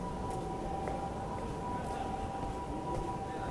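Ambulance sirens wailing through the streets of Shinjuku, Tokyo, a steady tone carried over heavy urban traffic rumble, distant and continuous for the whole stretch.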